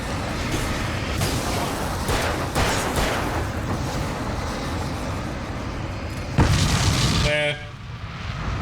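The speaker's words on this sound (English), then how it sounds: "Now is when I need the explosions." Explosions in the video game Alan Wake Remastered, several dull booms rumbling through dense game noise, ending with one loud close blast followed by a brief rattling tail.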